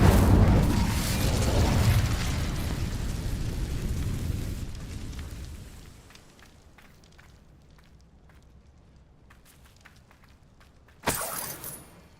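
Incendio fire spell cast in Hogwarts Legacy: a loud rushing, roaring blast of flame for several seconds that fades into a quiet crackling tail, then a sharp bright burst near the end.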